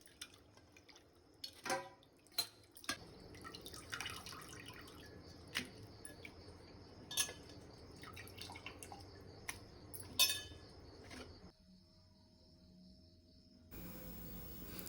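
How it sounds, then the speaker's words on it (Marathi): Quiet splashing and dripping of water with scattered clicks and knocks as rawas fish is rinsed by hand, fairly faint, with insects chirping in the background. "आता दोन ते तीन वेळा पाण्याने धुवून घेऊया"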